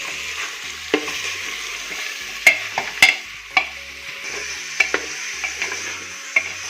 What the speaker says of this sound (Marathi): तर असं आपल्याला मस्तपैकी हलवून घ्यायचं आहे.